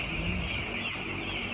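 Fowl calling close by in a Chhattisgarh village setting, a brief throaty clucking over constant background hiss and hum, with no talk.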